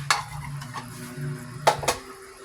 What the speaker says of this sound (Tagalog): Haluin lang natin. Tapos takpan natin ulit.